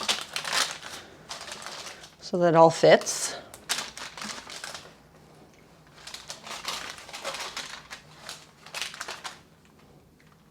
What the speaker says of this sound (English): I'm just going to arrange my chicken in the pan